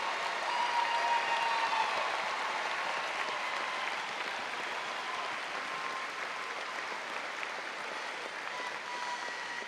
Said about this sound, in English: thank you so much for that applause